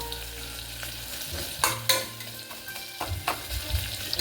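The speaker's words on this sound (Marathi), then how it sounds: "छान परतून घ्यायचा तो कांदा" Onion being sautéed in a pan: steady sizzling frying with a few sharp scrapes and clinks of stirring, close and fairly loud, no talking.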